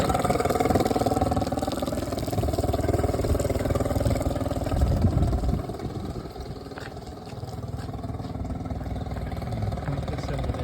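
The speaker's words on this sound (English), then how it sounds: "I'm going to turn the engine off and turn it back on so you can hear what that sounds like." A 2011 Tracker Marine Super Guide 16-foot V-hull boat's outboard engine runs steadily close by with a low, throbbing drone, dipping briefly in the middle as it is switched off and restarted, then settling back into its idle rumble.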